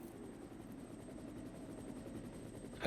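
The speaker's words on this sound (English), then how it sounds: "Oh, yep, I hear the chopper." In the video game Resident Evil Director's Cut, a helicopter's rotor chops steadily at a distance, with fast, even blade pulses over a low drone that swells slightly at the very end.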